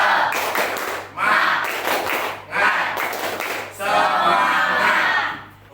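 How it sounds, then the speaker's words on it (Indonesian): A classroom group performing the rhythmic "tepuk semangat" clap, bursts of many hands clapping in patterned rounds separated by short pauses, with voices chanting along. "Tepuk semangat."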